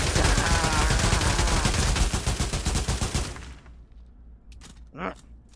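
Nerf guns fire in a rapid series of close, sharp clicks and thumps for about three seconds, then stop, with brief voices afterward.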